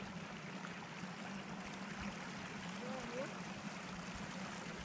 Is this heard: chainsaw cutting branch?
no